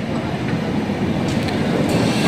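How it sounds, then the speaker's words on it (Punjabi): Sachkhand Express running late as it pulls into Rajpura Junction, a steady loud rumble of rolling wagons and rail noise throughout, with faint higher squeals near the end. "ਪਹੁੰਚ ਗਈ ਰਾਜਪੁਰਾ ਜੰਕਸ਼ਨ 'ਤੇ, 2:53 ਲੇਟ ਸੱਚਖੰਡ ਐਕਸਪ੍ਰੈਸ"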